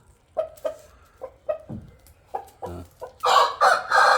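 Hens cluck in short bursts close by, then a Polkovnik-breed rooster crows loudly and repeatedly toward the end.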